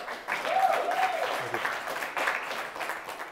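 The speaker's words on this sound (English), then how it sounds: "Round of applause, Terry, guys" A small group applauds on an airsoft show set, steady clapping that stays fairly even throughout with faint voices murmuring underneath.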